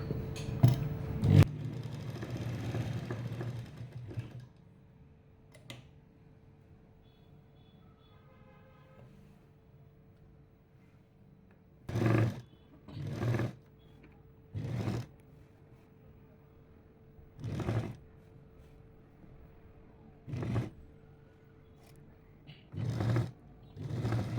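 A sewing machine stitches the lining and main cloth of a chudidar top in short motor bursts, some a second or so long, separated by quiet pauses, with one longer run near the start.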